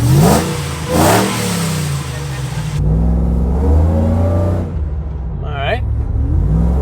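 A supercharged Chevrolet Suburban engine revs in bursts, rising and falling with a slight stumble, loud and close, with someone talking over parts of it.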